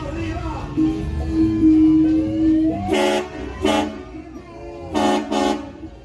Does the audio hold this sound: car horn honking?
yes